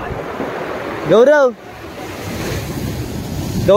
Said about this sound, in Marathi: त्यात खलखल वारा आहे तर समुद्र एवढंच आहे